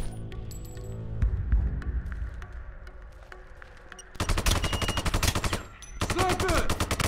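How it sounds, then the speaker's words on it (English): Rapid bursts of automatic gunfire and single shots in a Sniper Ghost Warrior 2 firefight, loud and close, with dense rattling volleys in the second half and a brief lull between them. "Open fire! Get him quick!"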